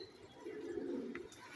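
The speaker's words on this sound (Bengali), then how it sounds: "তো বাবরার সাথে নাপ্তা কবুতর দিলাম" A breeding pair of pigeons coos softly, giving a low, steady, throaty rumble that runs through most of the moment, with a faint click near the end.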